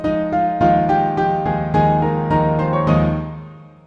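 Piano playing a melody in octaves, each note struck with a bright doubled tone, a steady sequence of sustained chords ringing close and clear.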